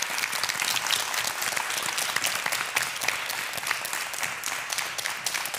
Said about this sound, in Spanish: Un aplauso muy fuerte para ellos.